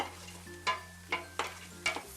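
Onions for a meat and cheese lasagna cooking down in a pan, with a quiet sizzle and three or four soft stirring scrapes, close by.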